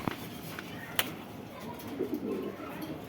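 Pakistani Giribaz pigeons coo softly in a cage, producing low, murmuring calls with a brief sharp click near the start, fairly faint against background noise.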